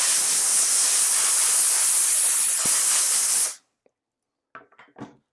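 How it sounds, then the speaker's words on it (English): Cleaner sprayed onto an adidas Ultra Boost sneaker in a steady, close hissing burst lasting about three and a half seconds, then cutting off, followed by a few faint handling rustles. "And spray it."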